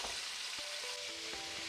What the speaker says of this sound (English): While the meatballs are frying